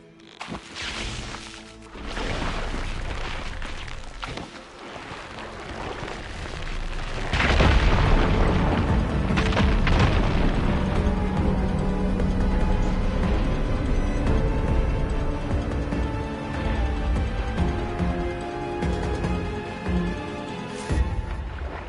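In Horizon Forbidden West, a fire gleam is ignited to blast away a pile of rubble: a faint rumble, then a heavy booming explosion that rolls into a long, loud crumbling roar that slowly fades.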